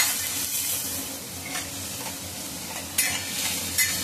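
Masala paste fries in oil with a steady close sizzle, broken by a couple of sharper scrapes from stirring.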